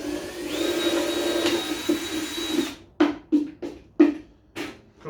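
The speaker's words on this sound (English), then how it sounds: "drill 1 hole on the other side" A power drill whines steadily for a few seconds, then several short bursts of drilling holes in wood follow with brief pauses between them, close by.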